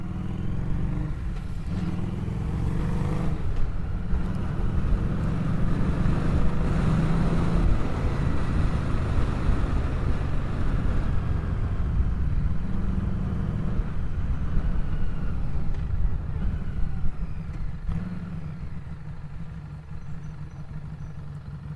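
Harley-Davidson Street 500 motorcycle on the move, a steady low engine rumble with wind and road noise running continuously throughout, loud and close from the rider's position.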